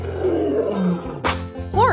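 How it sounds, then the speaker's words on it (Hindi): A lion roars loudly and close, a deep growling roar that swells and then breaks into a rising, strained cry near the end, heard alone. "Lion. शेर, जंगली जानवर।"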